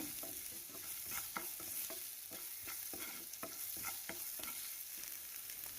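Ragi semiya mixture with spices being stirred in a pan, a steady sizzle broken by regular scraping strokes of a spoon about every half second, close and without any talk.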